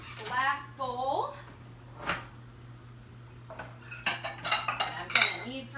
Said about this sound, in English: I'm going to go ahead and grab out my glass bowl